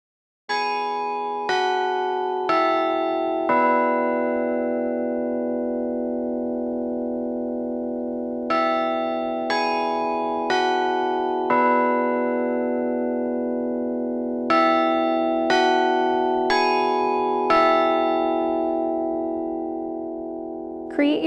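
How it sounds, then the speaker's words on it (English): A Schulmerich G5 digital carillon plays clock chime tunes, a sequence of clear, ringing bell strikes in a slow melodic pattern, each tone sustaining and overlapping into a steady resonant hum, loud and close with no talk. "8 clock chime tunes include the Westminster, Winchester, St. Michael's, Lord's, Four Bell Parsifal,"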